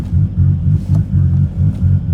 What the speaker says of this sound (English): One other thing you'll notice here as this car idles is there's absolutely no clutch chatter whatsoever, even when I push in the clutch